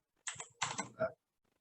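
Computer keyboard typing in a quiet room, with two short bursts of rapid key clicks followed by a brief louder patter, then silence.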